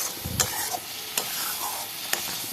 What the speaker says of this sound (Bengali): মশলাটা হাল নাড়তে নাড়তে ভাজতে থাকি লাল লাল করে ভাজা হয়ে গেলে